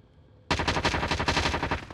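Sustained automatic gunfire from Call of Duty: Warzone bursts in suddenly after a quiet moment, a dense rapid volley of loud, close shots that keeps going without letting up.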